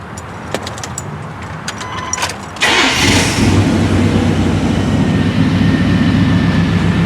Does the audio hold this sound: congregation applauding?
no